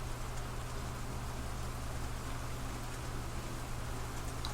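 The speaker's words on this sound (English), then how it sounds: "It's raining." Steady rain hisses evenly throughout in the video game Cemetery Mary, a dense, unbroken wash of noise with a low hum beneath it and no pauses or voices.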